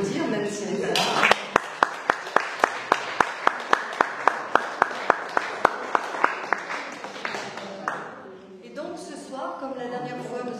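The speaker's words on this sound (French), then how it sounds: "Et puis on va quand même l'applaudir, même s'il n'est pas là." Audience applause at an art gallery opening, a dense crowd clapping steadily for several seconds over a murmur of voices, then tapering off into chatter as people talk.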